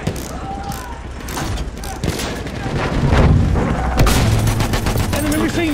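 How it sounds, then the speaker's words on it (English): Battlefield 1 machine guns rattle in rapid bursts amid a chaotic battlefield, with sharp cracks, booming blasts and clanking mechanisms building in loudness over several seconds, while game voices call out beneath the gunfire. "Enemy machine gun sighted."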